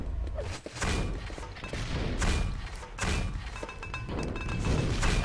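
Several grenades detonate during a competitive video game match, heavy thuds and crashes coming in repeated loud bursts over a constant bed of game noise.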